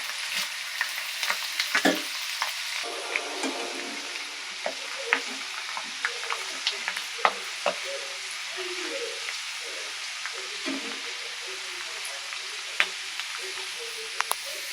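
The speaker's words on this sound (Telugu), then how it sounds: "ఆవాలు అయితే వేసుకొని వేయించుకుంటాను." Mustard seeds, then cumin, garlic cloves and dried red chillies fry in hot oil for a gooseberry pickle tempering. A steady crackling sizzle is heard with sharp pops from the seeds throughout.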